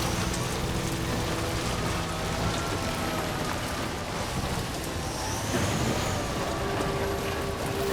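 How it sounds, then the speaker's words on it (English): Steady rain pours down in Death Stranding 2 during a sun shower, a dense, even hiss of drops on surfaces that runs unbroken throughout, with a faint low engine-like rumble underneath. "The rain while still seeing the sun."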